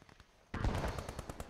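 Gunfire in the World War II shooter Post Scriptum: a few faint distant pops, then a louder burst of rapid reports that rolls on for about a second with repeated shots, moderately far off.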